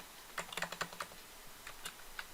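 Computer keyboard keys pressed in a quick cluster of light clicks and taps, then a few more scattered presses, faint and close with no voice.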